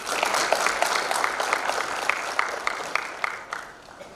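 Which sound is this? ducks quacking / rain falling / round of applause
round of applause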